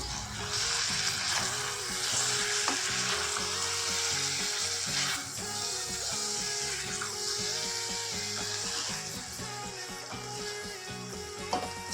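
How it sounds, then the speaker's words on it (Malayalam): Cauliflower curry sizzles steadily in a hot pan while it is stirred, a dense continuous frying hiss with faint scraping and clinks underneath, close and loud with no voices. "വീണ്ടും ഇളക്കി യോജിപ്പിക്കാം"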